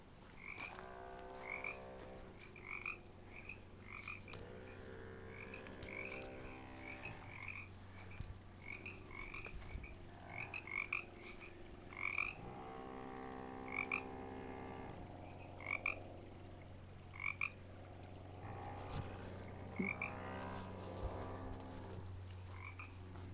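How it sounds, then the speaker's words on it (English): Frogs croak repeatedly from a canyon open-space park in San Diego, a chorus of short rhythmic calls from several animals, some close and some farther off, with no talking. "been hearing some croaking"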